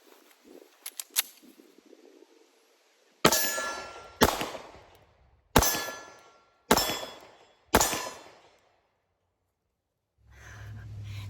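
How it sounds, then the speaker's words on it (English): Five loud, sharp pistol shots from a SIG P365 semi-automatic handgun, spaced about a second apart, each with a brief decaying tail, preceded by small handling clicks and followed by faint rustling. "So now we're going to try the P365 and see how well that I shoot it"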